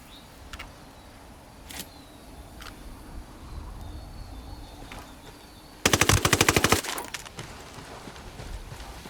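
Suppressed gunfire in the Ghost Recon Wildlands video game: a sudden tight burst of rapid muffled shots near the middle, loud and close, set against a quiet outdoor ambience with a few faint clicks before it.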